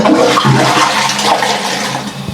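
A toilet in Austria with a differently designed tank flushes close by, a loud rushing gush of water that swirls and drains over a couple of seconds, with no talking.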